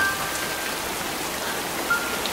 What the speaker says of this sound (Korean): 비가 주룩주룩 내려요.